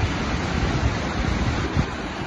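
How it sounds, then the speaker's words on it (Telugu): Burney Falls, a 150-foot waterfall in California, roars as a steady broadband rush of falling water, loud and even with no voices. "This is Burney Waterfall, California State, in United States of America."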